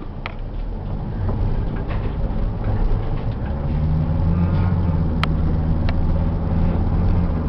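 A 2006 Dodge Sprinter 2500 diesel van with its check engine light on, engine running steadily as a low, continuous rumble heard from inside, with no talking.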